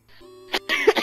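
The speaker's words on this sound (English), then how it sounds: "Smoker's cough." A harsh smoker's cough with throat clearing, two or three rough bursts close to the mic in a Black Ops 2 gaming session.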